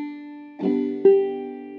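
Clawhammer banjo played with a one-note brush, giving a sustained open drone and two distinct brushed strikes about half a second apart, each ringing out clearly and alone.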